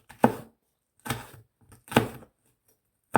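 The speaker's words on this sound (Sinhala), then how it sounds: "මේකේ සයිඩ් කපන්න." A knife chops through food on a board during meal prep, three firm strokes spaced nearly a second apart with a fourth starting at the end, close and crisp with quiet gaps between.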